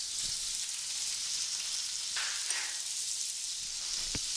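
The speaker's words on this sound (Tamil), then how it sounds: "இதெல்லாம் நல்லா வதங்குற வரைக்கும்" Ginger, garlic, onion and green chilli sauté in a pan for a Tamil scrambled fish dish, giving a steady close hiss of frying with a couple of faint scrapes and a sharp tap near the end.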